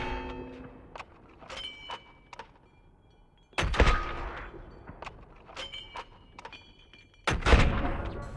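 Gunshots at shooting targets in Call of Duty Modern Warfare: several sharp reports spread across the stretch, with the two loudest heavy blasts near the middle and end standing out over lighter clicks and thuds.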